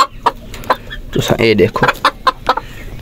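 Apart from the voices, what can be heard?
rooster and hen clucking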